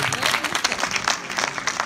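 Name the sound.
audience applause at a pageant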